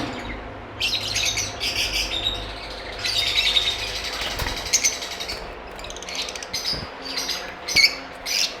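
Parblue split ino lovebirds, a breeder pair, let out repeated shrill chirps and squawks in short bursts, close and fairly loud over a low background rumble.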